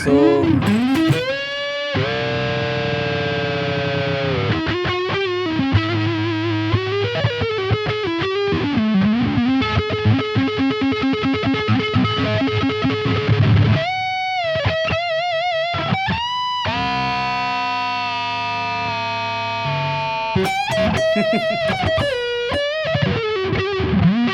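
A heavily fuzzed electric guitar plays loud, saturated chords and sustained buzzing notes, thick and continuous throughout.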